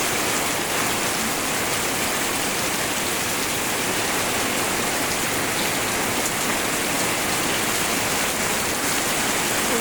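Heavy, windblown rain pours down in Liwa, West Lampung, as a dense, continuous roar of drops hitting surfaces, loud and unbroken throughout with no voices.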